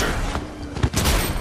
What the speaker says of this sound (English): Stop using a rocket launcher at close range